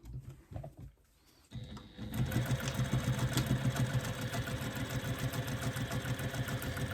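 A sewing machine stitches up the side of a zipper pocket. After a brief handling noise and a pause, it settles into a steady, close, rhythmic whir that runs to the end, with no talking.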